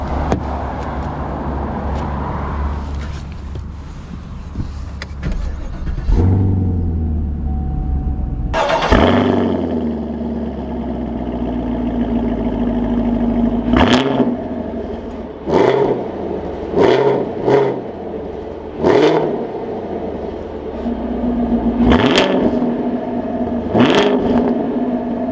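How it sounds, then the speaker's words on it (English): 2021 Chevy Camaro SS Redline Edition V8 starting and driving, a low idle rising into revs, then steady cruising hum punctuated by several sharp, repeated bursts of engine and road noise. "Let's take this Redline Camaro out and see how it drives."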